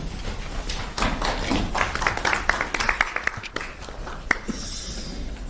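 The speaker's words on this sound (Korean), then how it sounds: "큰 박수 부탁드립니다." An audience at an indoor political event greets a company president with scattered, moderately distant applause, individual claps standing out over a murmuring room.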